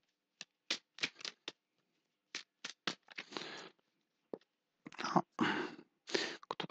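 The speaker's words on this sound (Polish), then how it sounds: "Spotasujmy porządnie karty i zobaczymy, co Wam przyniesie los." A deck of tarot cards is shuffled by hand in short bursts, crisp riffling and sliding rustles separated by brief pauses, close and fairly quiet with no talking.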